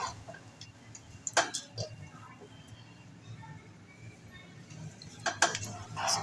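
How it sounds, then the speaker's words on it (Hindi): Ground mixture being stirred into jaggery in a pot over a low flame, giving sparse clinks and scrapes of a spoon against metal, faint and irregular under low room noise. "आराम आराम से इस तरह से मिक्स कर लें।"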